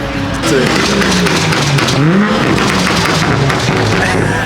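A tuned Nissan R35 GT-R engine revs up toward 9,000 RPM, a loud rising and falling engine note heard from nearby while people talk over it.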